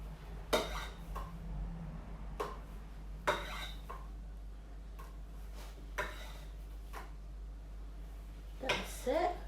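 A metal spatula scrapes and taps against a frosted cake and is wiped clean, giving several short scraping clicks spaced a couple of seconds apart over a quiet room hum.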